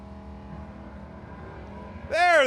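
A 1970 Plymouth Duster and a 1951 Studebaker Champion at a heads-up drag race: a steady low engine idle, then a sudden loud rising rev as a car launches near the end.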